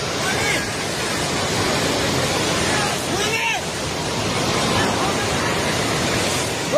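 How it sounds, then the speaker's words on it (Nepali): The flooded Trishuli river rushing past a submerged riverside market, a loud, dense, unbroken roar of churning water with a brief voice-like sweep in the middle, steady throughout. "पानी नजिक आइसकेको छ"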